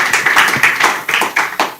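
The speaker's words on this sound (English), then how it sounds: "Please can we give a round of applause to our panelists?" A small audience at a business launch panel claps for the panelists, a few hands beating in loose, uneven rhythm close by, with no voices over it.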